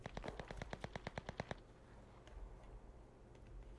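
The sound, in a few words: gunfire in video game Cuisine Royale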